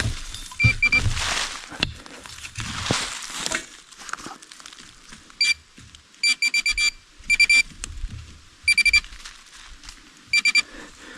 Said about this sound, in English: I might have to shove some dirt in that pinpointer speaker hole because it's too loud